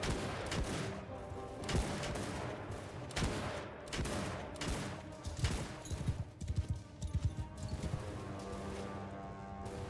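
Companions' gunfire rattles in the video game Shokuho, a dense stream of repeated shots and volleys over a busy battle din, with scattered louder bursts near the end.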